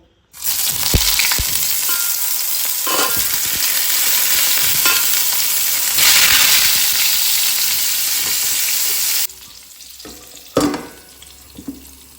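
Brinjal slices coated in salt, sugar and rice flour fry in hot oil, a loud continuous sizzle broken by a few stirring knocks; near the end the hiss drops away, leaving a quieter clatter.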